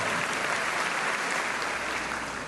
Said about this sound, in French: Un grand applaudissement, quelle joie.